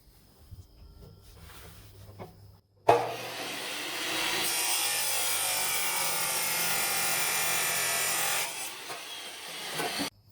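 A hand saw cutting through threaded steel rod: after a couple of seconds of quiet handling, a loud, even rasping stroke sound starts abruptly and continues for about six seconds before stopping.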